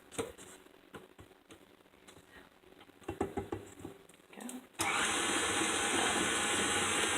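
An electric mixer starts up and whirs loudly and steadily through cream cheese cake batter after a few seconds of light clinks and handling noises in a kitchen.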